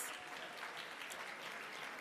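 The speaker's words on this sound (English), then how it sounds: "Let's give them a round of applause." An audience at a gala applauds, producing a faint, steady wash of many hands clapping with no breaks or individual claps standing out.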